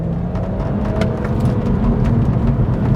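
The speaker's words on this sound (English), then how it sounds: "Driving the BMW 130i." A BMW 130i hatchback on the move, a steady close-up engine drone with low harmonic hum and road noise, alone and without voices.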